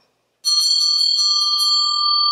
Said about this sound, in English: I'm trying out a new bell.